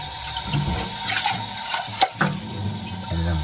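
Water runs from a tap into a cooking pot for fish soup, a steady splashing stream with a brief gurgle midway, close by and without talk.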